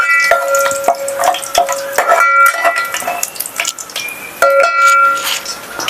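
Cardamom pods and cloves fry in hot oil in a pan for festive bagara rice, giving a steady close sizzle broken by repeated metallic clinks and scrapes from stirring.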